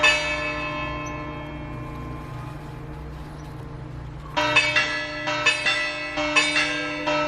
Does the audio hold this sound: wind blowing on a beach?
no